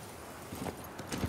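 A few soft hoofbeats from a horse in The Witcher 3, quick clip-clop steps close by, faint against a quiet background.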